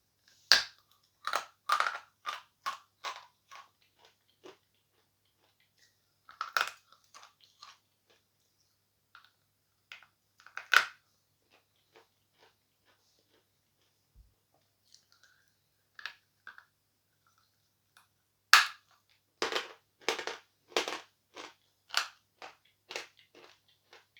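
Hard pressed glass chalk from a sea-themed box crushed between the teeth, sharp close crunches coming in quick bursts with long silent pauses between them.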